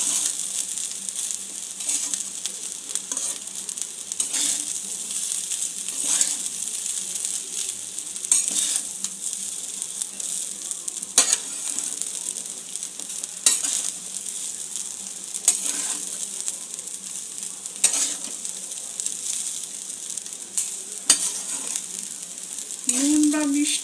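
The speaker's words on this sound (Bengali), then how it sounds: "1 চা চামচ ঘি, রাইসটা আমি নেড়ে দেবো।" Rice turned in ghee in a pan makes a continuous frying sizzle, marked by repeated scraping and stirring strokes every couple of seconds and a light metallic clink near the end.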